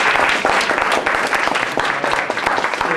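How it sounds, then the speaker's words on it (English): An audience at an art-movements speaker event claps in sustained, dense applause to welcome two presenters, a steady crowd of hands filling the room throughout. "please, everybody, both our presenters today, just a welcome applause"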